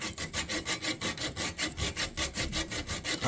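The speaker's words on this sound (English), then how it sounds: "I find pull saws extremely handy." A pull saw cuts through an oak dowel in quick, even back-and-forth strokes, about four per second, close and fairly quiet with no voices.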